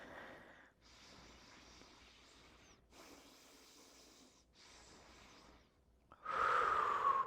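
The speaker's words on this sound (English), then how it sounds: "Breathe in." A person takes long, audible breaths in and out during a workout stretch in an upper-body session, each breath lasting a couple of seconds, fairly close and soft, ending with a louder, rushing exhale.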